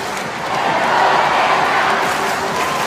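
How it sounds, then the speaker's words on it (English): A swimming arena crowd at the 2018 Asian Games cheers on its swimmer in a 1500m freestyle race, a broad, sustained roar of many voices swelling slightly and filling the space at steady loudness. "The crowd are getting behind their man."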